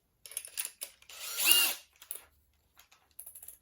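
Power drill enlarging a hole to 9mm for a 6mm rivet nut on a hill climb car's breather tank fitting, with short close whirring bursts and one longer rising drilling run, alone without talk.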